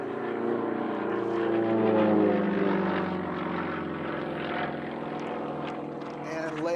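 A Sukhoi SU-31 aerobatic plane's engine drones in a steady, layered roar during a downward roll at an unlimited-class aerobatics competition. The roar swells, then slowly eases as the aircraft passes at a distance outdoors.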